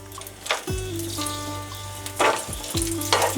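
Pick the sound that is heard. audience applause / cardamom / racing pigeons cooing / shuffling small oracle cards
cardamom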